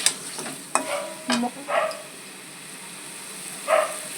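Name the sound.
eggs being sautéed and stirred in a pan for egg curry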